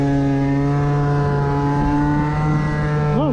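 A tuned Aprilia SR50R Euro 4 scooter with a 70cc kit and smaller carburetor buzzes loudly and close while being ridden, a steady high-pitched two-stroke drone at cruising throttle with a brief dip and rise in pitch near the end.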